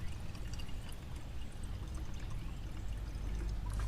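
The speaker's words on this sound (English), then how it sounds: "We're going to fill this guy until water comes out the second bleeder screw over here at the thermostat housing." Coolant poured into the cooling system of a BMW E39, a faint steady pouring and gurgling stream running without a break, close by with no talking.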